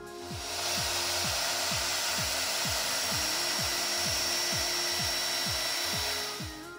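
Miter saw cutting lumber pieces for a wooden skyline diffuser, a loud, steady motor whine under a regular series of about a dozen repeated rasping strokes.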